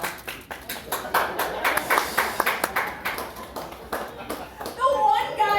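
A single audience member claps at a comedy show in Logan Square, a run of sharp, fairly close claps that are steady at first, then sparse and fading, with a voice talking over them toward the end.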